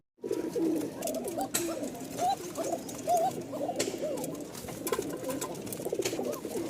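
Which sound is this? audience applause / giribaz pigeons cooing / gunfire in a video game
giribaz pigeons cooing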